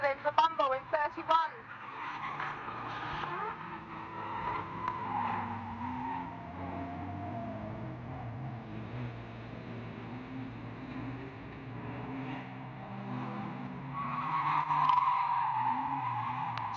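Race cars circling a short oval at Fleet Raceway during a rookie race, a continuous mid-distance engine drone with a burst of sharp noise at the start and a rise toward the end, a voice talking over it.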